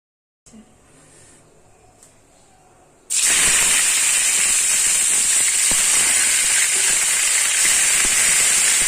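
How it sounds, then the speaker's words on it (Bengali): After a quiet start, a loud, steady sizzling hiss bursts out as eggplant hits hot mustard oil in a frying pan and keeps frying continuously. "ফ্রাইং প্যানে সর্ষের তেল দিয়ে বেগুনগুলো ভেজে তুলে নিতে হবে।"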